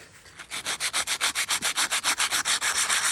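Hand sanding with 60 grit sandpaper over a carved stone surface makes quick, even back-and-forth rasping strokes, close and fairly loud, about six per second, with no speech.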